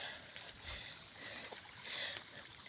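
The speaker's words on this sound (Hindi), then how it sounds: "ये पानी ऊपर से आ रहा है" Water flowing down from above, a soft continuous trickling and gurgling stream, fairly faint and steady with no voices.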